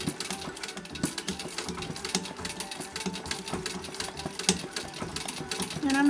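Vintage treadle sewing machine stitching free motion embroidery thread painting, a steady close rapid clatter of needle strokes running throughout, with a brief louder whir near the end.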